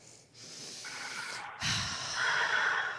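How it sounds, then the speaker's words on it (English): A person takes slow deliberate breaths, drawing air in through the nose and letting it out through the mouth. The airy hissing rises and swells, close to the microphone. "Breathe in through your nose, out through your mouth."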